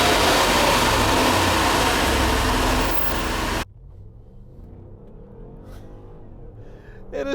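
A supercharged Mercedes ML63 AMG SUV roars loudly while driving for a few seconds. The sound then cuts abruptly to a much quieter, low cabin hum with faint rustles.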